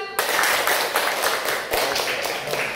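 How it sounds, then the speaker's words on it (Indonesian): A junior high school class claps hands together during an ice-breaking game in an arts lesson, producing quick, steady rhythmic claps that start abruptly and continue at close range. "Benar, tepuk tangan."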